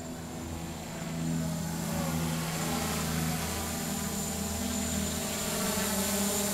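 MJX Bugs 3 quadcopter drone flying outdoors in strong wind, a steady high motor whine with propeller buzz and wind noise, fairly faint and continuous.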